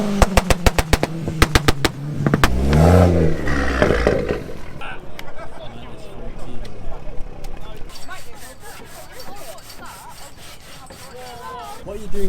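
A modified Subaru Impreza STI revs hard at a crowded car meet, its rising and falling engine note loud and close, followed by lower idling and general background chatter.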